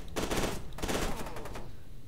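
Gunfire in the video game F.E.A.R. 2, two loud close bursts of rapid shots, each about half a second long, separated by a short pause and trailing off into a faint rumble.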